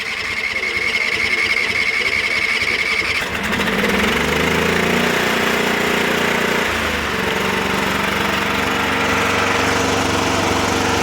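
A Sears Suburban SS16 garden tractor's small engine turns over, then settles into a steady, loud idle that runs on without a break.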